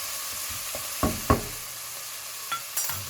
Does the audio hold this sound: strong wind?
no